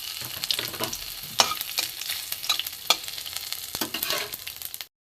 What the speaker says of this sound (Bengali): কড়াই তেল বসিয়ে এখানে কালো জিরে, শুকনো লঙ্কা, তেজপাতা দিয়ে দিলাম